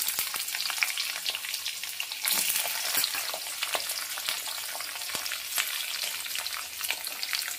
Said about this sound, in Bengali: এবার বিনসটা দিয়ে দেব তেলের মধ্যে।